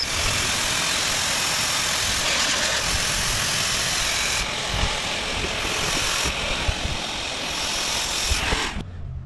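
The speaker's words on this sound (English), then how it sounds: "We're going to take our air pump and pump it up through here." An electric air pump inflates the cover of a Saluspa inflatable hot tub with a loud, steady motor whine and rushing air, close and continuous, shifting slightly in tone before cutting off at the end.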